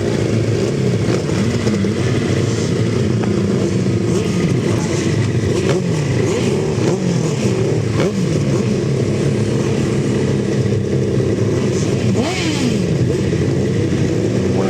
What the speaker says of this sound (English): race 68, final race of the day, 1000cc sidecar final.